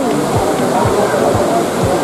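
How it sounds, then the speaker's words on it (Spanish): A waterfall in Dubai pours in a loud, steady rush of splashing water that fills the whole moment without a break. "Tío, una cascada."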